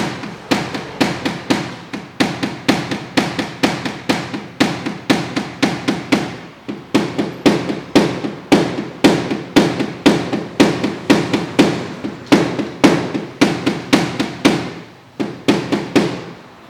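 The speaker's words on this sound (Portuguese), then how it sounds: "o contato aqui da ponta do martelo de borracha com a lata" A rubber mallet strikes a dented metal car panel in a steady rhythm, roughly two sharp, close thuds per second with brief pauses between runs, loud and without talk.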